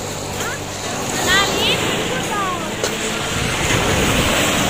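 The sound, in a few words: sea waves at the beach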